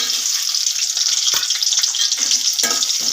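Onion frying in the oil left over from frying bitter gourd for a curry, a loud, dense hiss and crackle close up, with a few stirring scrapes and knocks.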